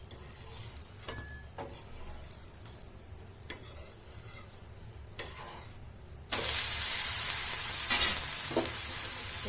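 Rava and poha dosa cook on an oiled pan, a quiet crackle with scattered taps that suddenly swells into a loud, dense sizzle as more oil hits the hot surface, staying bright and close, no voices.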